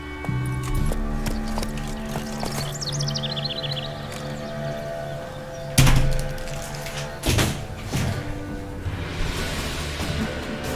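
Hooves clip-clop steadily from a ridden horse in The Witcher 3, layered over a droning game backdrop with a couple of sharper thuds partway through and a brief high squeal early on.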